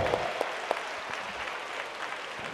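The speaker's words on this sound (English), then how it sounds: "But big clap for your mummy and daddy." Children clapping together at an international abacus and arithmetic competition in Chennai, a dense, steady patter of applause filling the hall, with a few sharper claps standing out.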